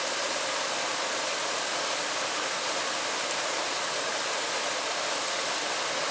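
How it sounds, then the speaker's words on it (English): A small waterfall in Stoke Park Woods near Bishopstoke, Hampshire, gives off a constant, dense rushing roar. The sound is steady and unbroken throughout, with no voices over it. "there's a little waterfall there"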